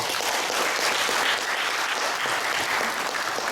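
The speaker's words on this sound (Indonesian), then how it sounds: "Dan kita sambut dengan meriah. Tepuk tangan." Loud, even applause from an audience at an anniversary celebration, continuous and dense for the whole few seconds, with no speech over it.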